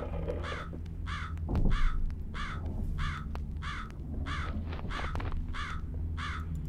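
Crow cawing in the horror video game Jisatsu, a steady series of about ten harsh caws repeating at an even pace over a low ambient drone, with a brief louder thump partway through.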